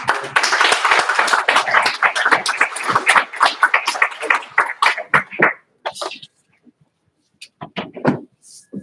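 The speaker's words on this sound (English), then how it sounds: "Let's have a round of applause as we present." A round of applause at a talk on Islam and peace in Nairobi, Kenya: dense clapping that thins into scattered claps and then fades to a few isolated claps and small noises.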